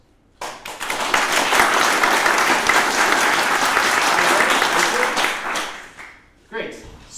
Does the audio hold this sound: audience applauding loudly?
yes